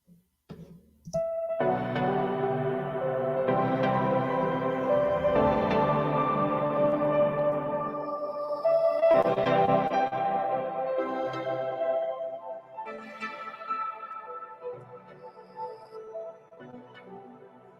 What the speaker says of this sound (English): We're going to do reverb here again as well.